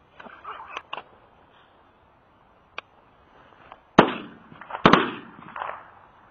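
Shotgun shots ring out while pigeon shooting over stubble, with two sharp loud cracks a second apart and a few fainter pops and rustles around them.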